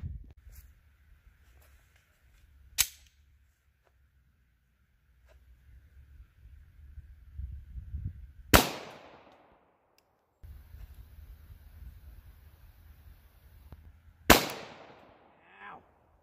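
Handgun shots fired into a block of 20% ballistic gelatin during a test of .380, 9mm, .40 S&W and .45 ACP rounds: three sharp, loud reports spaced several seconds apart, with handling noise and rustling between them.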